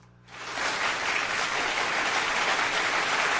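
Applause sound effect kicks in after a short quiet moment and holds as a steady, dense burst of clapping and cheering-like crowd noise, loud and alone without any talk.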